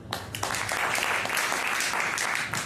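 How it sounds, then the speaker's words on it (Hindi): An audience at a Bhagavad Gita talk breaks into dense, steady applause, many hands clapping together close and fairly loud for a few seconds. "माता जी जोरदार ताली।"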